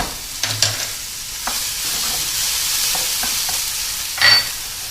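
Garlic is added to mushrooms already frying in a pan for beef stroganoff, producing a continuous close sizzle broken by several sharp stirring clacks and scrapes, the loudest near the end, with no voices.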